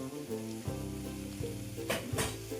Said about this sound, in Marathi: मी अर्धा चम्मच जिरे घालून घेतले